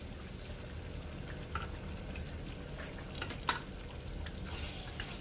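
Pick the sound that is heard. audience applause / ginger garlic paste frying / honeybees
ginger garlic paste frying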